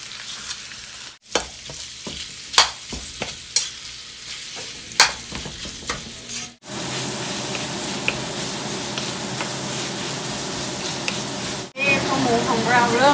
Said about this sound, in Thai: เสร็จแล้วเราจะใส่หมูสับนะคะ